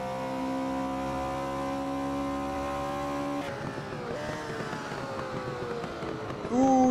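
A Porsche race car in the Assetto Corsa driving game holds a steady high-revving engine note, then drops into shifting, wavering revs as it slides, with someone talking over it.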